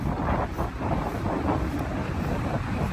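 Strong wind roars steadily across the microphone at Dolomite Beach, a loud continuous rumbling buffet with no voices.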